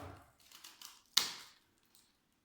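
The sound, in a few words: cutting a dry woody orchid stem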